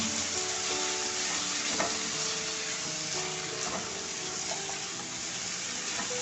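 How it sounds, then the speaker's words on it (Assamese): Madhushulan greens fry in a pan for an Assamese dish with a steady, even sizzle and an occasional faint clink, close up and fairly quiet. "2 মিনিট তেনেকৈ ইয়াত ভাজি ল'ম"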